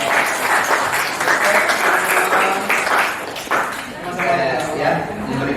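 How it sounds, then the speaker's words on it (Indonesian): Steady applause from a crowd, loud and continuous for several seconds, with a voice speaking over it. "Kita berikan tepuk tangan kali untuk Pak Imron."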